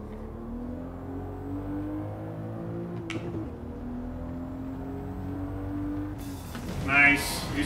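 Race car engine in Gran Turismo 7 driven hard, a steady droning engine tone with shifting pitch throughout, a brief sharp transient near the middle and a louder burst of broadband noise toward the end.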